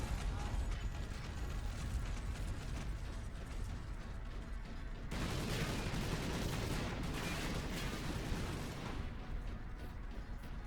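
Continuous rapid gunfire in the game Warhammer 40,000: Space Marine, dense mechanical rattling and clanking bursts that shift in intensity midway and keep going without pause.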